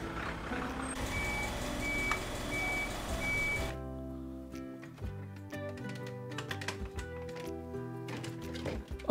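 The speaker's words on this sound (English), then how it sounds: "Oh, look, a trash truck." A toy trash truck sounds a quick series of loud electronic reversing beeps over a low motor hum. The beeps then stop, and plastic clicks and rattles follow.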